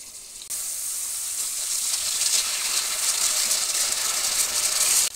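Tomatoes hit a pan of frying garlic-ginger paste and chilies for red lentil dal, setting off a sudden loud, bright sizzle that continues strongly to the end.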